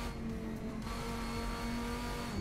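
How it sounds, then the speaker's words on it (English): A GT race car engine in the video game Assetto Corsa drones steadily at high revs, a continuous loud buzzing whine with no talking. "How good does this car sound?"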